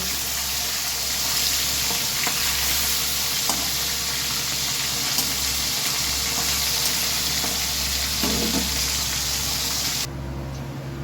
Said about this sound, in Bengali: এইভাবে একে একে সব মাছগুলো ভেজে নিতে হবে।